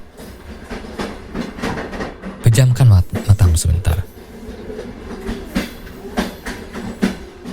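A train rolls along rails with rhythmic clatter and a louder rumbling stretch midway, while a calm voice speaks softly over it.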